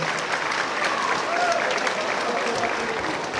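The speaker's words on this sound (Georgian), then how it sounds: "თუ შეიძლება აპლოდისმენტები" Concert audience applauding a schoolteacher at a Georgian charity concert, a steady, dense wash of clapping from many hands filling the room, fairly close and even in loudness throughout.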